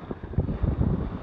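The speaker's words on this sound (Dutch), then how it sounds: "Het waait aardig, 17, 18 knopen." Strong wind of about 17 to 18 knots buffeting a sailing boat heading south toward Medemblik, a continuous loud roar and gusting rush across the microphone with no talking.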